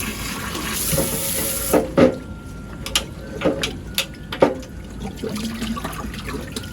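Water runs and trickles into an old rusty fuel tank being filled, a steady splashing flow with a few louder sloshes and knocks from handling the tank, close by with no talking.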